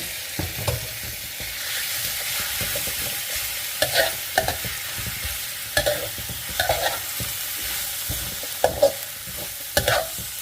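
Marinated beef scraps hit a hot pan with coarsely pounded garlic and dried and fresh chili for Thai basil stir-fry, giving a steady sizzle broken by repeated spatula scrapes and stirring clatter, close and fairly loud with no talking.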